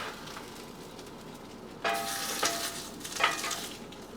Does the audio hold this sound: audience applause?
no